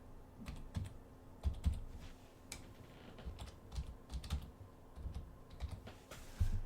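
A password being typed on a computer keyboard: quiet, irregular clusters of key presses with brief pauses, close and alone.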